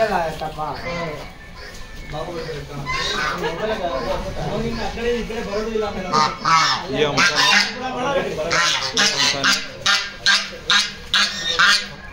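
Several geese honk repeatedly nearby, the calls growing into a rapid series of loud honks toward the end, mixed with people talking.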